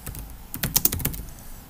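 Quick keystrokes on a computer keyboard while a description is entered into a school grades system, a brief burst of close, crisp clicks with no talking.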